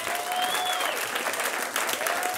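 Audience applause at a family stand-up comedy show, a sustained burst of clapping from the crowd with a faint tonal whine running over part of it.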